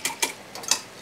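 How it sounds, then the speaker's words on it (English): Worcestershire sauce being whisked into beef bouillon broth, four quick light clinks of a whisk against a bowl, close and isolated. "Whisk it together,"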